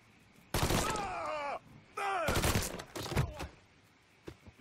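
Gunfire in the Mafia 3 video game, bursts of loud close shots with sustained rattling fire and sharp cracks, mixed with groaning voice sounds before fading to quieter thuds.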